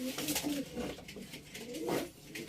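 Pigeons warming their nest coo in low, throaty rolls, several overlapping calls swelling and fading close by in a quiet loft.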